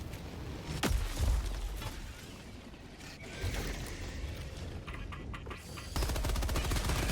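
The Liberty gun in Helldivers 2 fires in rapid bursts, a fast mechanical rattle of automatic fire with clicky reload and handling mechanisms between volleys, moderately loud with in-game ambience.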